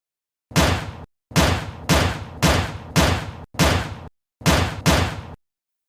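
Gunshots from Soft the Goat's gun in an animation: six loud, sharp blasts with short gaps between them, each one abrupt and booming, standing alone with no talk.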